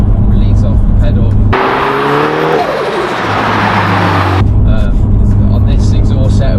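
A Renault Megane 3 RS engine with a KTR400 turbo kit revs loudly, then a fluttering turbo whoosh as the throttle lifts, with a voice talking over the engine before and after.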